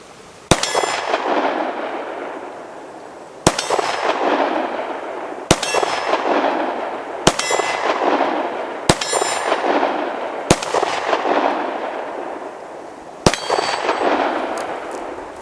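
Bullets strike steel shooting targets with sharp metallic clangs, each ringing out and decaying. Seven hits come at irregular intervals of about two seconds against a quiet outdoor background.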